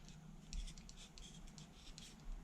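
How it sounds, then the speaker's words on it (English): A blade scraping and cutting along the front edge of a small 7 gram glider, a series of soft, repeated scratchy strokes close by, fairly quiet over low room noise. "So just cut off the little sharp edge"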